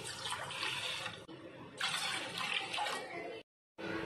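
Two glasses of water are poured into a pot, a broad splashing rush that runs steadily with a brief gap before the pouring resumes.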